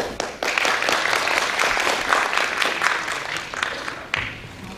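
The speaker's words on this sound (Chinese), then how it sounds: "请各位以掌声恭请主持人台大经济系林慧玲教授" Steady applause from a seated forum audience welcoming the host, a Taiwan University economics professor, to a roundtable on building a social safety net; dense, sustained clapping that swells briefly near the end, with no talk over it.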